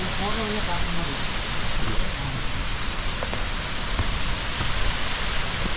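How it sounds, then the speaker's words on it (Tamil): The Shenbagadevi waterfall near Courtallam in Tenkasi rushes through the forest as a dense, constant roar that fills the whole clip, with a few faint birdcalls and brief voices under it. "போக போக அருவி சத்தம் நல்லா இருக்குது."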